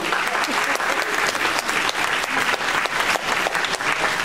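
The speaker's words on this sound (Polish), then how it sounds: "Brawa!" Enthusiastic applause from the audience at the closing ceremony of an international polonaise dance festival in Warsaw, dense continuous clapping from a large crowd nearby, with no talking.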